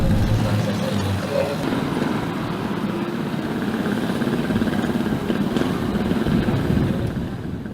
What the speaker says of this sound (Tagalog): Hiniram lang ni Jason ng motorsiklo